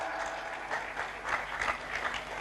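An audience at an Islamic religious gathering applauds loudly, a continuous burst of many hands clapping with slight swells, filling the short moment on its own.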